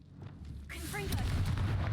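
The Confringo blasting spell in Hogwarts Legacy bursts in midway, a rising whoosh and rumble with bright chirps, following a quieter stretch with faint game sound.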